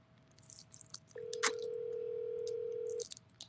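A steady, close electronic phone tone holds for about two seconds during a call that goes to voicemail, with faint clicks and chewing-like noises around it.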